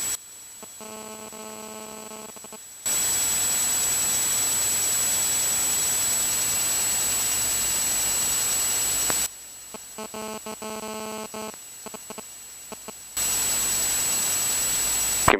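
A Diamond DA42 twin-engine aircraft taxiing at Malaga airport after its parking brake is released, heard from inside the cockpit as a steady broadband engine roar that cuts in and out between quieter stretches with intercom tones.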